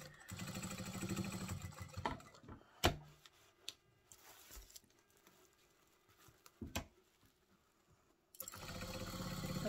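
A sewing machine stitches an oven mitt in quick, steady runs at the start and end, with quiet clicks and fabric handling in between.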